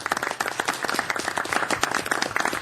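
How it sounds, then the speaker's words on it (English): Applause and clapping from a small audience at a city council meeting, steady and sustained without talk. "If you join me with some applause"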